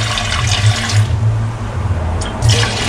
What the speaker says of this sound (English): we're going to pour some of the milk here into the pot